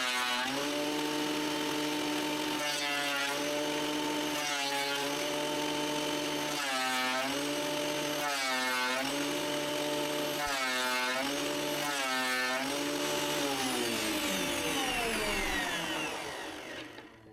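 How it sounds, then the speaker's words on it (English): A planer machine runs glued walnut and purpleheart wood through, a loud steady motor whine with repeated surging cutting passes, close up, then winding down near the end. "To ensure the pieces have a completely flat surface, I run both sides through the planer machine."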